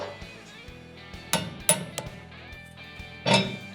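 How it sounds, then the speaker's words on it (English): A hammer taps a blade bolt into a metal dishpan of a farm implement, giving three or four sharp metallic clinks spaced irregularly, close and crisp against quiet background rumble. "You take a hammer and tap it in."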